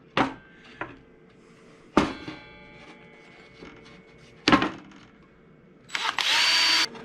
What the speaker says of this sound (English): I'm just going to use a couple of 1-inch wood screws